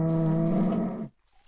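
A cow moos in the block-style game MineClone5 running on Minetest, one long loud low call lasting about a second, then cut off to near silence.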